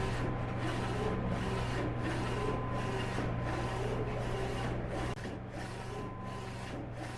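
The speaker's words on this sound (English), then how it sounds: "It's printing the names for the custom orders." A screen-print transfer shop printer runs names for custom orders, sweeping back and forth in steady, evenly spaced passes over a constant mechanical hum that drops slightly in level near the end.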